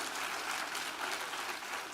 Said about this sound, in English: So when you say, we're going to clap, go ahead and do it well.